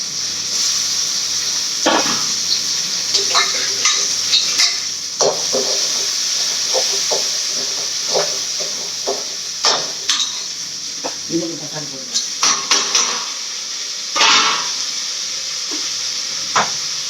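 Onions fry and sizzle in a pan while a spoon stirs and scrapes them, for chicken gravy. The sizzle is steady and close, broken by repeated sharp clinks and scrapes of the spoon against the metal.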